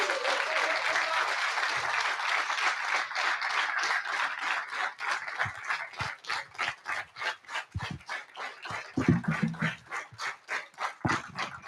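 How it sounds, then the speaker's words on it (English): An audience applauds at a European young chef award ceremony, a sustained round of clapping that thins into scattered, separate claps toward the end. "Big round of applause"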